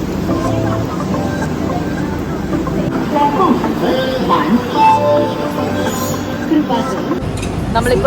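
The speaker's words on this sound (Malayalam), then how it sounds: "ട്രെയിൻ ഓൾറെഡി സ്റ്റാർട്ടായി കഴിഞ്ഞു" The Amritsar Express pulls out of a station in Goa with a low rumble and metallic clinks, as voices and station chatter carry over the moving train.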